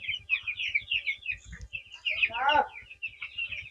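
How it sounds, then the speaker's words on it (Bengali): Broiler chickens in a poultry house, a flock of young birds chirping and cheeping in overlapping high calls, with a louder squawk partway through and low background rumble. "এখানে মুরগি সব ছড়িয়ে ছিটিয়ে আছে পুরো ঘর জুড়োই।"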